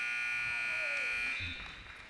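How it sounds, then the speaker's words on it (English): A final buzzer sounds at the end of a women's college basketball game, a steady electronic tone that sustains for about two seconds, then tapers as crowd noise rises beneath it. "And that's the buzzer."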